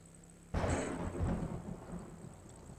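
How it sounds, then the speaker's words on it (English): A sudden thunder crack in the survival game Walk the Earth, followed by a deep rolling rumble that slowly fades over a faint background of ambient noise. "I don't see any clouds, and that was thunder."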